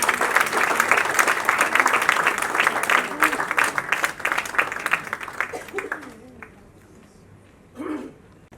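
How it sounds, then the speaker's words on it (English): Audience applauding actress Aditi Rao Hydari at a book launch event, with strong sustained clapping that tapers off over several seconds while a voice talks faintly near the end. "Round of applause, ladies and gentlemen, for Aditi."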